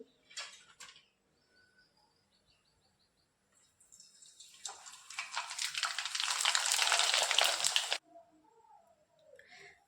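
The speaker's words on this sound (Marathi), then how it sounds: "तेल गरम झालंय. यानंतर आता पापड्या तळून घेऊ." Sabudana and potato papad dropped into hot oil give a loud, rising sizzle lasting about four seconds before cutting off, with quieter sounds before and after.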